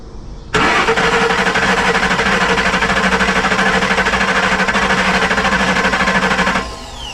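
A Ford Coyote engine cranks over steadily with its relay jumped, a loud continuous rhythmic churning that starts abruptly and runs for about six seconds before cutting off.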